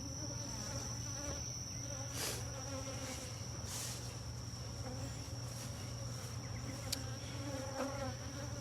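Honeybees buzz around two backyard beehives in a close, steady, dense drone, with individual bees zipping past the ear now and then and no voices.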